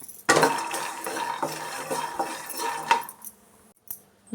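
Roasted peanuts are scraped and tipped from a pan onto a plate with a quick run of dry rattling, clinking and scraping, fairly close, then a brief quiet and one last clatter.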